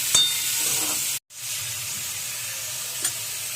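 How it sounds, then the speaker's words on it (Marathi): Chopped onion, tomato, green beans, carrot, green chili and a garlic clove fry in a pan with a steady close sizzle, cut by a brief silent gap and a few small stirring clicks, with no talking. "कांदा, टमाटर, फरसी, गाजर, हिरवी मिरची, एक लसूणची पाकळी टाकली. ह्यांना अशी भाजून घ्यायची."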